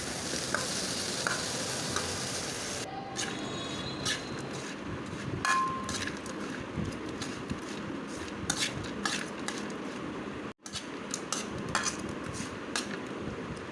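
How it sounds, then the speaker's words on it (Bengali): Pointed gourd frying in a little oil in a wok, a continuous close sizzle with repeated metal stirring scrapes and clinks, a brief pause near the end, no talking. "তার মধ্যে সামান্য পরিমাণ তেল দিয়ে সুন্দর করে ভেজে নিব"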